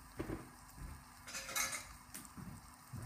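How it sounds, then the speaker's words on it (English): Black Angus beef meatball mixture hisses faintly in a hot pan, a soft steady sizzle mixed with the scrape and clink of a utensil stirring against the pan, close and quiet, with no talking. "So we're now going to put that into the pan, and we can hear it"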